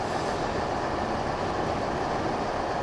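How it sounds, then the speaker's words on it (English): A coal train in the EEP railway simulator game rolls along with a dense, steady rumble and wheel noise, loud and continuous throughout, with no voices. "That is our coal train."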